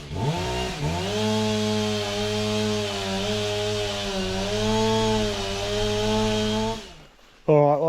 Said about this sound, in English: Get the chainsaw out and cut some of this logs up